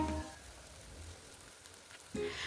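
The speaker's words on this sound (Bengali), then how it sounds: "এবার দুটো দুটো করে লঙ্কা কড়াতে দিয়ে ভেজে নেব" Banana pepper fritters in batter frying in hot oil in a kadai, a steady close crackling sizzle throughout, with a louder burst of spitting as a new piece drops in near the end.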